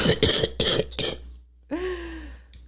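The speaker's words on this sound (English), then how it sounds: "let me clear my throat." A few sharp coughs and a rough throat clearing, close and loud, followed by a pause and a short voiced exhale.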